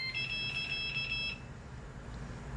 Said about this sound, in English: I do apologize for the alarm that keeps going off.